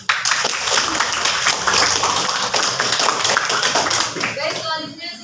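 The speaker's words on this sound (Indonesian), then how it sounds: "tepuk tangan yang meriah buat teman kalian tadi yang main" Classroom applause for a seventh-grade classmate who just performed a fantasy tale, steady dense clapping from many students filling the room throughout, with a few voices underneath before it tapers off at the end.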